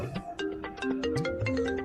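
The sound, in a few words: phone ringtone, incoming call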